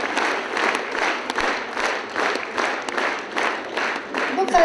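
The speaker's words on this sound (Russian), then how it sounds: "аплодисменты зрительного зала" Concert hall audience applauding at a jubilee concert, a steady wash of many hands clapping with rhythmic swells throughout, loud and close, no talk over it.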